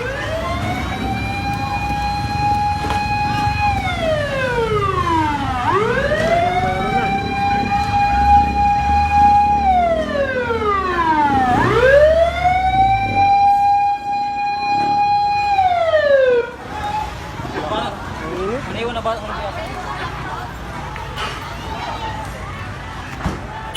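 A loud fire truck siren wails up and down in long sweeping cycles, close by, over background commotion at a fire before it cuts off.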